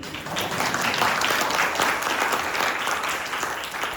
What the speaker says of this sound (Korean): 이분 박수 한번 주세요.